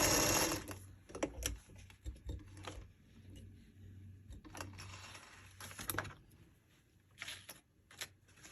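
A sewing machine stitching a paper-pieced quilt block, its motor humming in short runs and pauses with small clicks and handling noises, fairly quiet and close.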